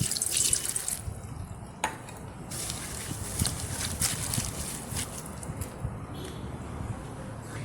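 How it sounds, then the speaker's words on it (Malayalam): A glass of water poured over finely chopped papaya leaves splashes and trickles close by, a steady liquid wash with a few sharper drips and clinks, no talking. "ഇതുപോലെ അരിഞ്ഞിട്ട് നമുക്കിതിലേക്ക് ഒരു ഗ്ലാസ് വെള്ളം ഒഴിച്ചു കൊടുക്കാം"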